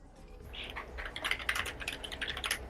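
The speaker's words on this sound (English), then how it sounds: "Your typing's quite loud for me." Fast computer keyboard typing, a rapid run of sharp clicks and key taps growing denser and louder, heard close on its own.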